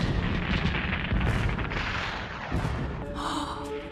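Fireworks bursting in a Teen Titans cartoon episode, a dense continuous crackle and rumble of explosions with whooshing bursts, loud and sustained throughout without talk.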